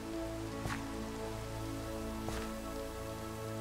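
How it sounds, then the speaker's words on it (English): Steady rain patters continuously in the video game Terrafirmacraft over a low background hum, with a couple of brief brighter splashes standing out; no one speaks. "No, it's because it's raining."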